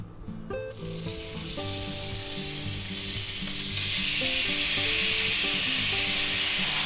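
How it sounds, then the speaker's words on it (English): Ground beef, about a pound, hits a hot oiled pan in a beef and vegetable stir fry, bursting into a loud, steady sizzle after a few scraping taps that swells louder midway and carries on alone. "our pan's starting to get pretty hot here, so we're going to go ahead and add our ground meat"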